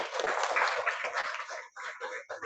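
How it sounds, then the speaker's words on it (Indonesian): A classroom of students claps for a classmate, a dense patter of many hands that thins into short, broken bursts with brief gaps near the end. "Tepuk tangan untuk Ayla Sofi."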